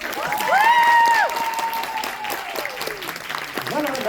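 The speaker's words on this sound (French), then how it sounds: "Voilà, là j'ai entendu les applaudissements." An audience claps and cheers at a cosplay contest awards ceremony, a burst of crowd applause that swells briefly and then fades, with shouted voices and whistles mixed in.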